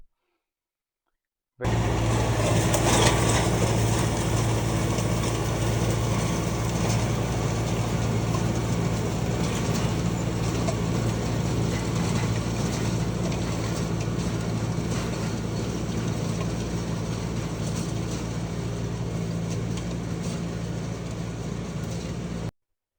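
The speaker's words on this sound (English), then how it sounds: "You saw the tractor running a second ago." A farm tractor pulling a no-till seed drill runs steadily after a short silent start, giving a continuous low engine drone that holds an even, unbroken level for about twenty seconds, with no voices.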